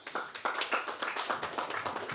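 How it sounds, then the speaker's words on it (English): Steady applause from a group, many hands clapping in a dense, even patter that holds for a couple of seconds. "Let's clap for him as he comes."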